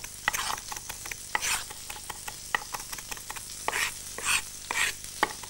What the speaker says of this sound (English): Once you start to chop basil